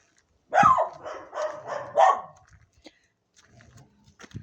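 Several dogs bark in a quick burst of overlapping yips and woofs, fairly close, followed by a few softer scattered sounds and quiet.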